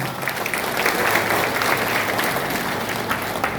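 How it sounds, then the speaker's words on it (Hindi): A large audience at a Hindi-language public speech claps in a dense, continuous wash of applause that stays loud and steady from start to finish, with no clear voice on top. "दोनों हाथ ऊपर उठा के और तालियां बजाकर"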